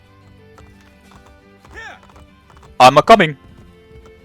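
Horse hooves in Assassin's Creed Brotherhood clop in a faint, steady, low rhythm beneath the game's ambience, with a short voice and then a loud shout over them.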